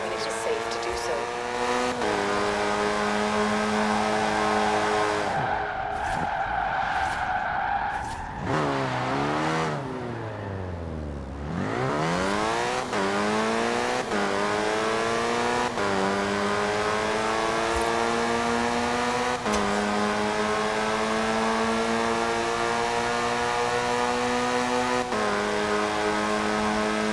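Racing car engine in Forza Horizon 4, revving hard through rising gear changes, dropping to a low idle mid-run before climbing again with tire squeal; the engine stays loud and close throughout.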